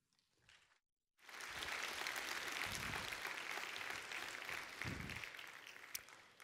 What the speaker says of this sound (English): Let's all give a big round of applause to Drew.